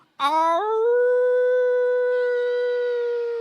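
A human voice imitates a dog howling: a single sustained, rising then steady howl lasting about three seconds, close and clear with no other sound.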